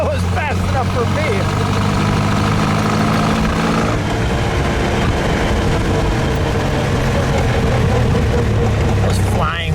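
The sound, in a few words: 1915 Scripps Booth Vitesse V8 engine running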